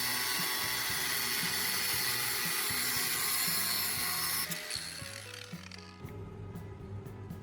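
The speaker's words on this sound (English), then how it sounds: "Using an angle grinder, I carefully cut along the marked line." An angle grinder cuts through the metal handle of a spoon, giving a loud, steady whining grind that holds for about four seconds, then thins and wavers as the cut finishes and the tool winds down.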